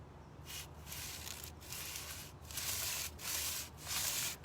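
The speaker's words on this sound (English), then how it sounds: "I'm sanding, sanding, sanding" Sandpaper scrubs rust off a table in steady, close back-and-forth strokes, each pass a rough hiss separated by brief pauses, growing a little louder toward the end.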